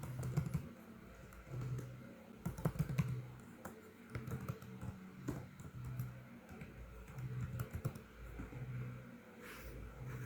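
Computer keyboard typing as an IP address is re-entered: faint, irregular clusters of light key clicks spread over ten seconds, under a low, steady background hum.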